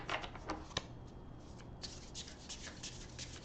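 A deck of cards is shuffled close up, with quick riffling flutters and soft snaps repeating in short bursts.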